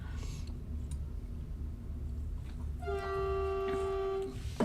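A train horn sounds one long sustained blast with strong harmonics, loud over a noisy background and outdoor rumble, running for about two seconds before cutting off.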